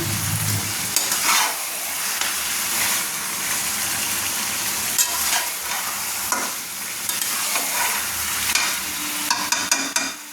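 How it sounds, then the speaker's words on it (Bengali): Mutton being stirred as it fries down for a kosha curry, with a steady broadband sizzle and repeated scraping and clinking of the spoon against the pan, continuous and close throughout. "দেখুন মটনটা আমি কষাচ্ছি, তো মটনটাকে আমি সুন্দর করে নেড়ে নিচ্ছি"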